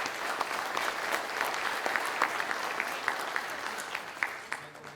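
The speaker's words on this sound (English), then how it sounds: "Let's have a big round of applause." Steady audience applause from a crowd at a South Carolina real estate awards ceremony, a dense continuous patter of many hands at moderate distance, holding evenly for several seconds.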